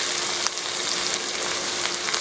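Mutton karepak frying in a pan with green chilies, curry leaves and salt, giving a dense, even sizzle close by with a few sharp crackles and no talking.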